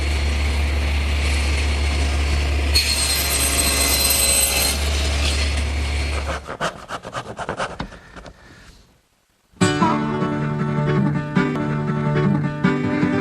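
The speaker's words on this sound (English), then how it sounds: "I'm going to use my tenon attachment for the table saw" A table saw fitted with a tenon attachment cuts tenon cheeks on a workpiece clamped to the miter gauge. Loud motor hum and blade whine, then the saw spins down to brief silence and starts up again.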